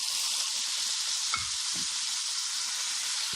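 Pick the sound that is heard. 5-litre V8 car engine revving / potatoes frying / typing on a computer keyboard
potatoes frying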